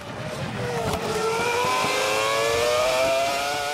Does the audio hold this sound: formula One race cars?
yes